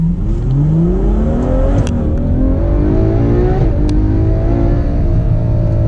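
A Ferrari 812 Superfast V12 accelerates from a standstill in first gear, its engine note climbing steadily in pitch, loud and close from inside the cabin, with a brief shift-like break midway and no talking.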